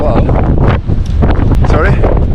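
Strong wind buffets the microphone in a continuous rumbling roar on a mountain climb in Sweden, with faint voices mixed in beneath the gusts.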